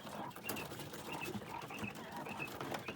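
Quails in a cage give soft cooing and chirping calls, repeated over steady background noise of the poultry housing, near and moderately loud throughout.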